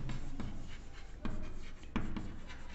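Pen scratching across paper while a maths exercise total is written out, soft continuous strokes with a few sharper taps, close and quiet with no talking.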